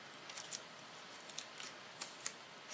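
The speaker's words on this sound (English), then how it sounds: "Line it up here, and then I'm just going to tape it down." Adhesive tape pulled and pressed down to fix a sheet of paper in place: a few quiet, short crackling rips spread irregularly, the last one slightly louder, over low room noise.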